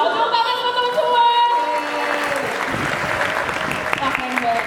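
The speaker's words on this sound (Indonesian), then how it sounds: "tepuk tangan teman-teman semua" Audience applause fills a university research grand opening event hall, a steady dense clapping that holds loud for several seconds, with faint background voices and a sustained tonal sound at the start.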